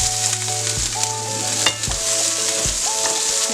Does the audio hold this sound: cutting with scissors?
no